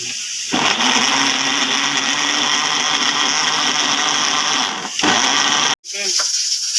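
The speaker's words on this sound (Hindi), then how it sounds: "टमाटर हैं वो काट के मैं ब्लेंडर में डाल रहा हूँ और इनको जो है मैं इनका पेस्ट बना लेता हूँ" A blender puréeing tomatoes into paste whirs loudly and steadily at close range, briefly dips, then stops abruptly before a short final burst.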